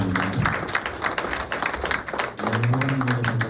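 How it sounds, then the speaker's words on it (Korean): An audience applauds at the opening ceremony of a charity walk to welcome an official. The dense clapping runs steadily throughout, and a voice is heard over it near the end. "큰 박수로 환영해 주시기 바랍니다"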